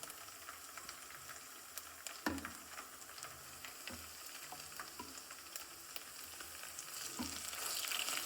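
Green garlic sizzles steadily in a hot pan for a village-style kadhi and khichdi, a constant close frying hiss with a few soft stirring knocks, and no voices.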